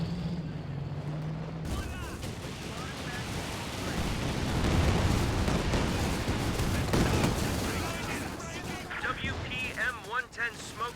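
Tank destroyer guns firing during a Company of Heroes 2 battle, heavy rumbling blasts and booms layered over a dense, continuous din of combat noise.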